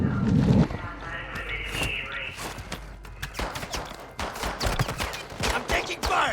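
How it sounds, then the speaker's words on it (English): Gunfire in Call of Duty: Modern Warfare II, rapid bursts of shots cracking in a dense, irregular volley, with in-game radio voices speaking over the firefight. "I'm taking fire!"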